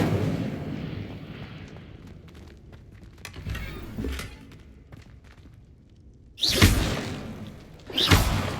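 The Incendio fire spell being cast in Hogwarts Legacy: a whooshing, rumbling burst, then quieter crackles and thuds, followed by two loud separate blasts near the end, with no talk.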